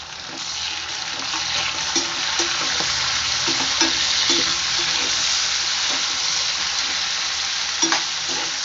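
Tomatoes sautéing in oil for pirandai chutney, a loud, steady frying hiss with repeated soft stirring knocks and scrapes at an even rhythm throughout.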